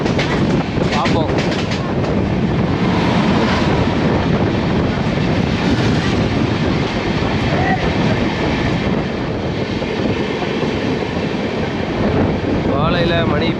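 Inside a moving first-class carriage of the Tamil Nadu Express, running from Delhi toward Chennai: a steady, loud rumble of wheels and carriage noise fills the whole stretch without a break.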